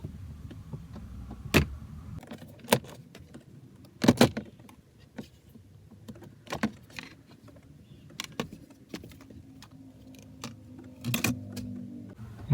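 Hands work loose a black plastic trim cover beneath the steering column of a Proton Wira or Mitsubishi Lancer during a DIY instrument cluster job, giving sporadic sharp plastic clicks, snaps and rattles separated by quiet pauses, close up.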